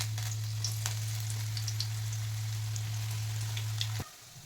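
Onion mixture fritters deep frying in hot oil, a steady dense crackling sizzle with scattered pops that runs loud and even, then drops away sharply near the end.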